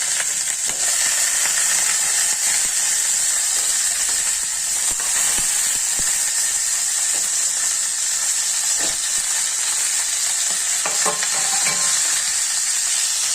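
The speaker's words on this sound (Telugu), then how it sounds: "ఈ వంకాయలు అందులో పాన్లో వేస్తానండి" Stuffed brinjals frying in a hot pan, a loud continuous hissing sizzle with occasional spits and pops and a few soft clicks of a utensil, close up and without talking.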